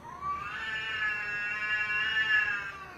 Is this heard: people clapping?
no